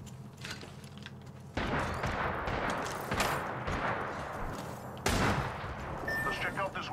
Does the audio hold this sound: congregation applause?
no